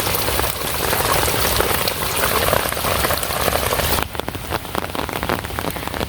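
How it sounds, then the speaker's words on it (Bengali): Steady heavy rain pours on surfaces in a dark, overcast Bengal village, a dense continuous hiss that drops noticeably in volume partway through as the downpour begins to ease. "তো এখন একটু কমছে বৃষ্টির ভাবটা।"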